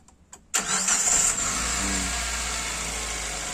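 A used car's engine cranks and catches abruptly, then a loud, steady idle follows with no talking.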